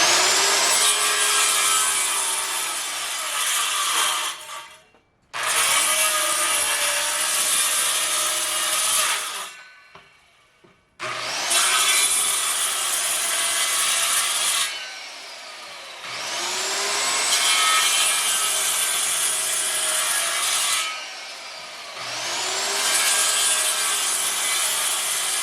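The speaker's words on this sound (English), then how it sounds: "I, at random, just cut 1 inch strips and then chisel it out" Wood being worked by hand with a 1.5-inch chisel, clearing out 1-inch strips for homestead cabin parts; loud, close rasping strokes come in four long bursts separated by short pauses.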